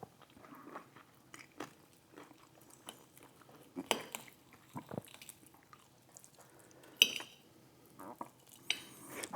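Someone eats Wingstop hot honey chicken wings: soft bites, chewing and occasional light clinks of a plate or utensils, quiet and close, with sharper crunches scattered throughout.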